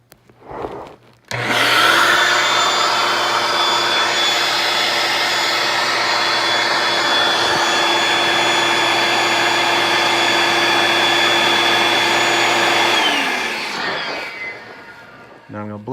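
Electric balloon inflator pump switching on with a thump, then a loud steady whining motor blast for about eleven seconds while a balloon fills, winding down at the end, close up.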